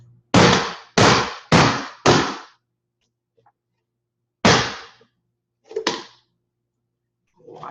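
A whole spaghetti squash banged against a kitchen surface to crack it open: four loud, sharp thuds in quick succession, a pause, then two more separated knocks.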